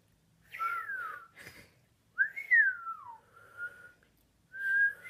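Someone attempts to whistle, making a few short, breathy, wavering notes with gaps between them, close and fairly quiet.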